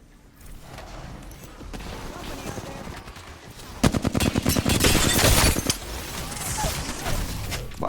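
Rapid automatic gunfire in Apex Legends, a dense run of sharp shots starting about halfway through over a busy game soundscape, close and loud, with a voice speaking briefly over it.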